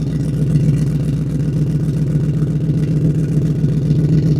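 A car engine fitted with newly installed exhaust resonators runs loud and close, a deep, steady droning rumble that holds throughout with only slight swells in pitch.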